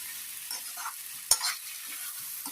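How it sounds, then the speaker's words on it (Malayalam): Prawns rubbed with salt and turmeric sauté in a pan with onion, shallots, ginger and garlic: a faint, soft sizzle with light stirring scrapes and one sharp clink of a utensil midway, with no talking. "കൊഞ്ചും കൂടി ഇതിനകത്ത് നമ്മൾ വഴറ്റുക."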